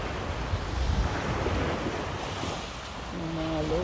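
Ocean waves surging onto a white sand beach after a storm, a broad continuous wash of surf and wind noise, loud and close, with faint voice-like tones near the end.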